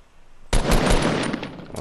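A sudden burst of rapid automatic gunfire in the battle royale game Fortnite starts abruptly and rattles on loud and continuous for over a second.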